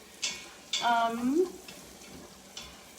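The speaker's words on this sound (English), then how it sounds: "looks like the butter's all melted" Half a stick of butter melts and sizzles in a Quick Cooker pot, with a few brief bursts of frying and stirring over a quiet background.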